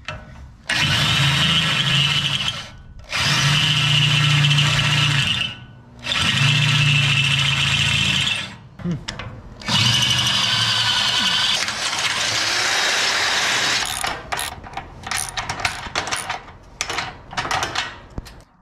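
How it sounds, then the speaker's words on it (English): Power drill boring holes into a 5x8 utility trailer, running in several loud, close bursts of a few seconds each with short pauses between, then trailing off into scattered clanks and handling noise. "now I'm gonna drill into it with vigor."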